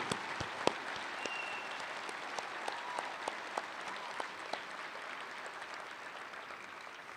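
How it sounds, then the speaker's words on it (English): A high school graduation audience applauds a student, a soft, even patter of many hands with a few sharper individual claps that gradually thins out. "can we please get a round of applause for Hannah"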